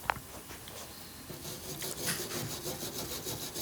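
Scrubbing along the metal upper rim of a DCS stove burner, a soft continuous rubbing scratch growing into quick back-and-forth strokes, close and fairly quiet.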